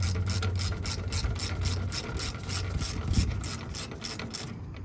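Ratchet wrench bolting a coolant filter base onto a bracket of a Volvo semi truck: rapid, regular ratcheting clicks close up, running steadily for several seconds, with no voices.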